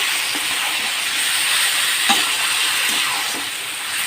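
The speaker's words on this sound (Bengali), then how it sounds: "এর ওপরে এই যে মাংসটা দিয়ে দিলাম টমেটমটা দিয়ে দিলাম এবার এটা আমি ভাজা ভাজা করব" Chicken pieces and tomato sizzle together in a frying pan, a loud continuous hiss with a few faint scrapes, close and steady with no voices.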